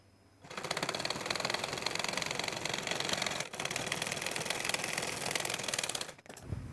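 A sewing machine stitches the side seam of a kameez from the hip downward, a fast, even, rattling run of stitches, briefly pausing once and stopping near the end.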